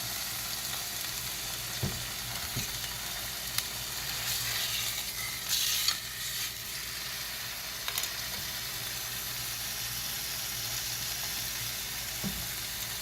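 Montreal steak cooking medium rare in a pan inside a minivan camper, giving a steady close sizzle and frying hiss throughout with a few faint clicks and no talking.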